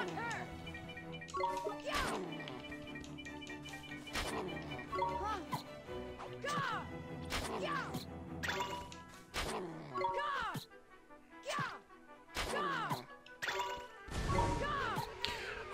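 Battle in Ni No Kuni: Wrath of the White Witch on Xbox Series X, with repeated whooshing swings and sharp smashing hits landing every second or two over game music, moderately loud throughout.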